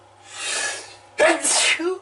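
A single loud sneeze up close, preceded by a breathy inhale, with a short voiced sound just after.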